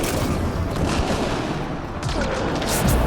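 Rapid turret gunfire in a video game, dense loud bursts of shots close by, layered into a chaotic continuous barrage with scattered impacts throughout.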